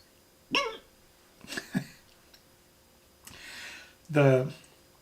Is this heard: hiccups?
yes